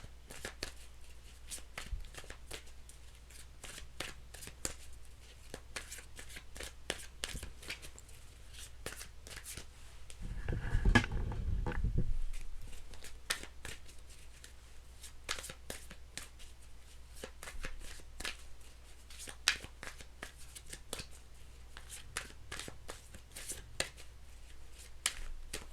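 A deck of tarot cards shuffled by hand, close and fairly quiet, giving a steady run of quick papery flicks and riffles for most of the stretch, with a brief louder burst of handling near the middle and no talking.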